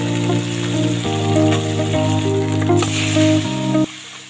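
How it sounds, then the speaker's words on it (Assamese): Onions frying to a golden colour in oil for an Assamese beef curry, giving a steady close sizzle under sustained tonal background music, with no talking. "গাইজ দেখা পাইছে পিঁয়াজ ধুনীয়াকৈ গোল্ডেন কালাৰ হৈ ভাজা গৈছে"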